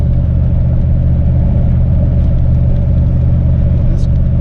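A turbocharged Foxbody car engine spools while driving, a loud steady low rumbling drone with a sustained mid-pitched tone, heard from inside the car.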